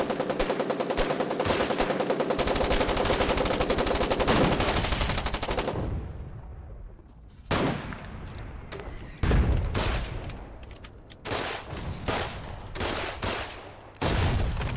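Gunfire from the war video game Foxhole rattles in sustained bursts of automatic fire at first, then breaks into sharp, irregular volleys of single and clustered shots with brief pauses between them.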